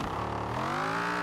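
Dodge Viper engine in Forza Horizon 4 revving hard under too much throttle, a steady loud whine rising in pitch across a short burst with faint tyre squeal, no talk.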